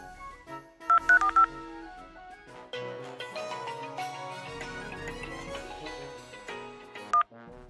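Phone number keyed in on a telephone, a quick run of bright touch-tone beeps followed by a longer sequence of mixed electronic tones and a final short beep, clear and close with no talk.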